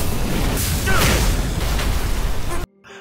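Explosion sound effect in an animated martial-arts fight scene: a loud, broad booming blast with rumbling debris that swells and rolls on, then cuts off abruptly into near silence.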